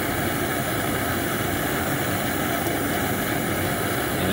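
A forge burner flame roars steadily and loudly throughout, a dense continuous rush with a low rumble underneath and no breaks.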